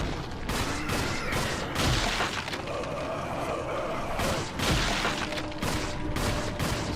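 Gunfire from the early version of the video game Resident Evil 4, a dense run of loud shots and booming blasts repeating irregularly over a full combat soundscape, with no voices.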